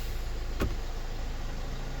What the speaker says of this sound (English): You can hear the tone of the engine, pick up a gear, you can feel it.